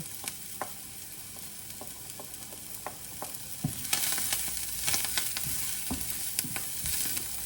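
Chopped garlic and fresh parsley stirred into softened vegetables in a frying pan: a close sizzle with frequent scraping, clicking utensil strokes that grow louder and busier partway through.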